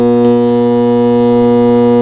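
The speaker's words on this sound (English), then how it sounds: "You can hear that hum, but the pump is not turning on." Failing Carvin Jacuzzi pool pump motor, powered but not turning, giving a loud, steady electrical hum with strong even tones, unchanging throughout and heard alone.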